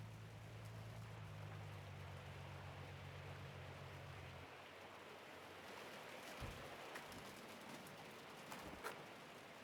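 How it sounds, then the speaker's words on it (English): Steady rain hiss in the video game Gold Mining Simulator fills the background, with a low truck engine hum that cuts off partway and a few faint patters and knocks afterward. "I hear the rain."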